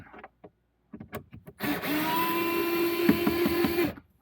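A small power driver whirs steadily for about two and a half seconds, backing T25 screws out of a Porsche 981 gauge cluster, preceded by a few light clicks and taps from handling the part.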